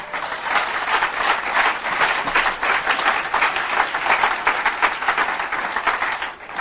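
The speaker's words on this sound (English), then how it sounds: "You know what you're applauding for right there?" Audience applause at an Alcoholics Anonymous speaker meeting in Denver, a full room of people clapping continuously and evenly for several seconds, loud and close with no voices over it.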